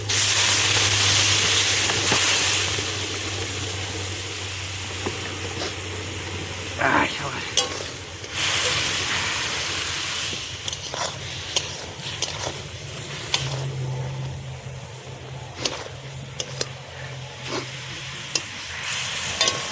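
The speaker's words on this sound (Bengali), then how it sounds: "হালকা করে জল দিয়ে দিই বন্ধুরা, সুন্দর করে কষিয়ে নিই" Pork is stir-fried in a pan at an outdoor jungle picnic, with water splashed in. Loud sizzling at the start settles into a steady frying hiss with intermittent stirring scrapes.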